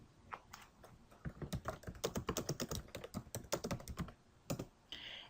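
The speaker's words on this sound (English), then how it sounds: "Let's say you type the title of a book and press enter." Quick bursts of close keystrokes on a computer keyboard as a book title is typed into a search box, a rapid clicking run with brief pauses and a final key press.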